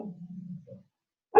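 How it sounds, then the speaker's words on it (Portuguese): Small dog giving a short, faint yip or bark, followed by silence and a brief sharp noise at the end. "Eu estou a ouvir um cãozinho"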